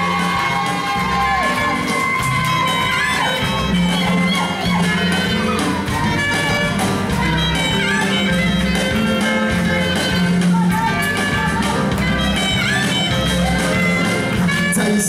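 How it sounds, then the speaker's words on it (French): Crowd cheering and whooping rise over loud, steady carnival music as Taïsia, costumed as a matador in a pleated headdress, is welcomed at the 2023 Guadeloupe carnival; the noise stays continuous and close throughout. "Des applaudissements, s'il vous plaît,"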